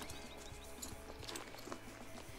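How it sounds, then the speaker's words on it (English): Wild horses out on open ground, with rhythmic hoof clip-clops running steadily at moderate distance under a busy background of other outdoor noise. "There are a lot of wild horses out today."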